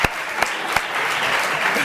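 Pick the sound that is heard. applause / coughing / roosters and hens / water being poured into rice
applause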